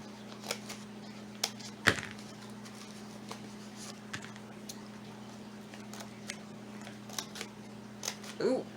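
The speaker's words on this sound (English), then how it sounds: "went and made little slits with my scissors" Scissors snip a series of little slits along a folded paper coffee filter or sheet while a terrarium is being made, giving sparse, crisp cutting clicks with small pauses over a steady indoor hum.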